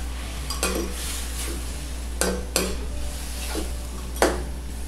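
Squid cooking in a pan with vinegar, stirred with a metal spoon: a low sizzle under several distinct scrapes and clinks against the pan at irregular intervals, close and moderately quiet, with a steady low hum beneath.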